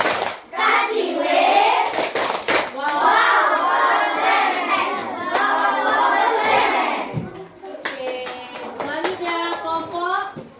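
Schoolchildren at an elementary school clap out a rhythmic 'tepuk wow' routine, their sharp claps mixed with loud group chanting and shouting, then a tighter run of quick claps near the end.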